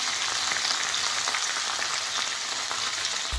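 Bacon frying in a pan produces a steady, close sizzle with scattered pops and crackles that mimics falling rain, heard alone without talk.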